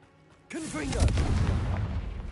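A Confringo fire spell blast in Hogwarts Legacy hits suddenly and loudly, followed by a sustained rumbling explosion, with a brief voiced sound over the start of the blast.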